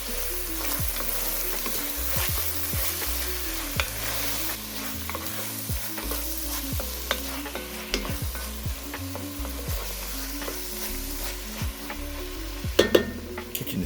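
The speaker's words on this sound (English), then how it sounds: "Add that right to it and give everything a stir." Cabbage, ground beef, shrimp and drained diced tomatoes with green chilies sizzle steadily in a frying pan while a utensil stirs through them, with occasional scrapes and clinks close up.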